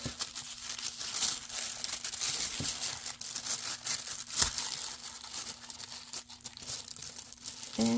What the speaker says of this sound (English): So let's just go ahead and tear another piece off of this.